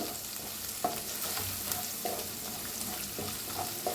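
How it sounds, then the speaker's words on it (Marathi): Half a spoon of turmeric and spice masala fries in a pan over a very low flame, making a continuous close sizzle broken by regular stirring scrapes and light knocks of a spoon. "आता ह्याच्यात टाकूया हळद अर्धा चमचा. हळदीला बी छान असं भाजून घेऊया."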